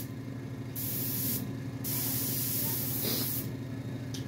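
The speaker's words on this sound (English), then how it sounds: "gonna make sure that the airbrush is working" Compressed air hisses steadily from an airbrush with its cap removed, a loud continuous spray that cuts off and resumes in a few bursts, with no talking.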